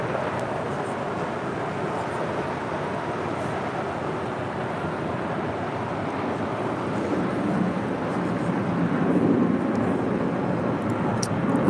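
A Delta Airlines Airbus A321 jet takes off at LAX, its broadband engine roar steady and moderately distant, swelling slightly toward the end, with no voices.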